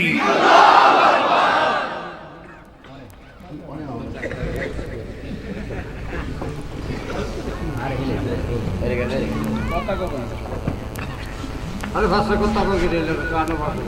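A large crowd at a Bengali religious gathering on the Prophet's life roars a chant of Allahu Akbar in response to a takbir call, a loud sustained mass of voices that swells again near the end.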